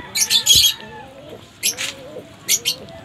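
Pigeons coo and flutter in short bursts, with bright chirpy calls clustered in three groups over a quiet outdoor background.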